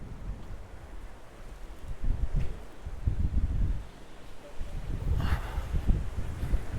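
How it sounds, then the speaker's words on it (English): Wind gusting on an outdoor walk through a town, a low rumbling buffet against the microphone that swells and eases in uneven waves, with faint rustling and no speech. "getting battered by the wind a bit"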